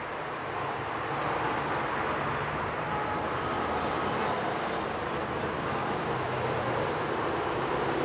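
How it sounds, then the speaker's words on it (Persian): Street traffic with motorcycles and cars makes a steady, unbroken roar of engines and tyres at moderate distance. No single vehicle stands out and no voices are heard. "صدای موتور دارم، صدای ماشین دارم"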